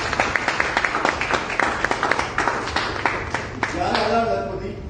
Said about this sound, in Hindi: आप चाहें तो मेरे लिए ताली बजा सकते हैं।